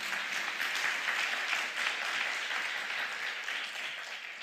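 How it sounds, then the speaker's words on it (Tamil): A church congregation claps for the Lord during a Tamil sermon, a soft, even wash of applause from a gathered crowd that carries on steadily without break, somewhat distant and fairly quiet. "ஆண்டவருக்கு ஒரு கரகோஷத்தை கொடுப்போமா?"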